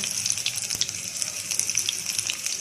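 Bread pakora sizzling and crackling steadily in hot oil, a continuous close hiss with scattered pops, no voices.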